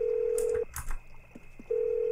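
Telephone dialing in The Sims video game: a steady dial tone breaks off for a quick run of dialing clicks and beeps, then resumes, clear and close with no talking.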